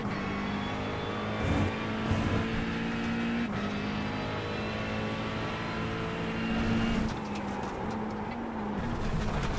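Simulated McLaren GT race car engine droning steadily through a lap in iRacing, a continuous loud tonal whine with slight pitch shifts from gear changes, alone without talk.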